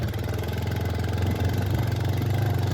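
A motorcycle engine idles steadily up close on a hilltop ridge road, with a low, even rumble and a faint clatter throughout. No one speaks.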